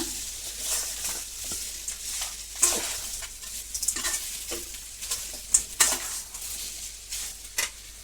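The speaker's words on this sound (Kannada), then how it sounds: "ಈಗ ನಾವು ಇದಕ್ಕೆ ಆಲೂಗಡ್ಡೆನ ಸೇರಿಸೋಣ ಈಗ ಇದನ್ನೆಲ್ಲ ಮಿಕ್ಸ್ ಮಾಡ್ಕೊಂಡ್ಬಿಡೋಣ" Potato being stirred into a samosa filling frying in a pan, a soft continuous sizzle with repeated scraping strokes and occasional sharp clinks of the spoon on the pan, close by and without talk.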